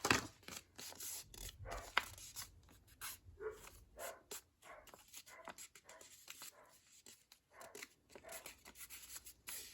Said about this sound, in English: you're going to have to deal with dogs barking because they're out using the facilities